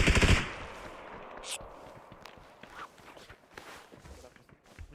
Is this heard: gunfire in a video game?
yes